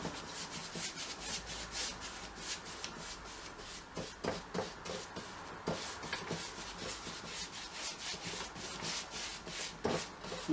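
Brush strokes sweep steadily across an oil painting while solvent varnish is applied, soft repeated rubbing swishes, close and quiet, with no voices.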